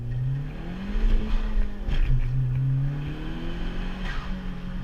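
A modified 2018 Honda Civic Si accelerates hard in first gear on a canyon road, engine note rising steadily and loud in the cabin, with a brief dip and climb as revs build over a few seconds, no talking.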